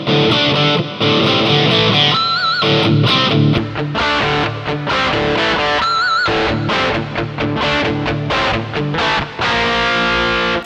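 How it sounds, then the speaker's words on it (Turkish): An electric guitar plays through a Joyo DC-15S rechargeable amp with heavy hall reverb, producing loud, distorted strummed chords and bent lead notes that ring on and wash together for about ten seconds, with no talk. "Bir de reverb'ı abartalım bakalım, böyle hall olsun."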